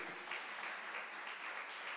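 A church congregation applauding during a sermon, a dense, even patter of clapping heard faint and distant throughout the short stretch.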